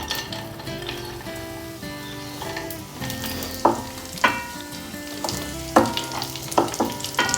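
Dry fruits fried in melted ghee in a pan give a steady, close sizzle, with several sharper clinks of a spoon stirring against the metal pan and no talking.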